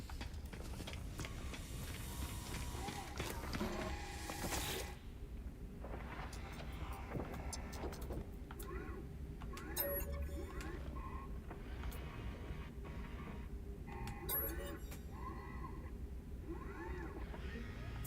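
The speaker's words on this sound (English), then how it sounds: "So that's just cockpit winds and engine." Spaceship cockpit in No Man's Sky with a steady wind-like rush and engine drone throughout, broken by a few brief tonal blips and clicks, no voices.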